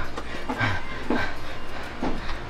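A person who has just run in out of sudden rain pants heavily and rhythmically close by, giving a few breathy gasps at roughly half-second intervals.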